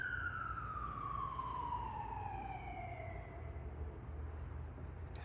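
A fire truck siren from a nearby fire hall wails in long, falling sweeps, fairly loud over a steady low rumble for the whole clip.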